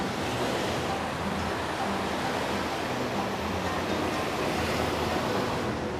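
Ocean surf rolling onto a California beach within sight of an offshore oil platform, a steady broadband wash with no distinct breaks, close and fairly loud with some wind noise, no voices.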